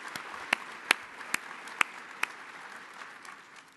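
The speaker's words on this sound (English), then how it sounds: "Let's give them a round of applause for being here." An audience gives applause at a SAMHSA Prevention Day session, a short, moderately loud burst of clapping with several sharp individual claps standing out before it fades.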